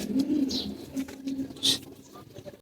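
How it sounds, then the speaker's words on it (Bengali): Domestic pigeons cooing near their loft, a soft low warbling coo repeated a few times with light fluttering patter. "আমাদের কবুতর দেখেন কিছু আছে উঠতে আসছে কিছু নেমে গেছে"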